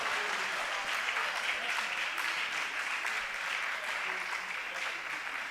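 A church congregation applauding loudly and steadily throughout, a dense and continuous wash of clapping with faint voices mixed in.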